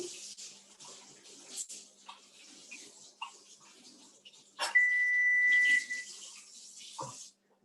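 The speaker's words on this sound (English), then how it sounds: "Then I just want to make sure I wash my hands." Running tap water while hands are washed at a kitchen sink, a soft intermittent splash rising to a fuller steady stream, with a thin electronic beep tone heard partway through.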